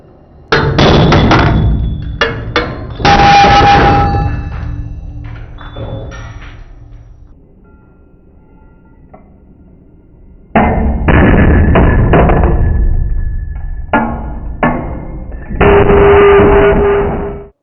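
A drill bit crushed under a 300 ton hydraulic press, loud sharp bangs and crunching bursts in two clusters separated by a quiet pause, the second bursting violently and ending abruptly.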